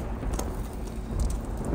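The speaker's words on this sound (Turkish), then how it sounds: "Yağmur başladı bir yandan da." Steady rain patters on a surface in a soft, continuous hiss with scattered drops pattering close by.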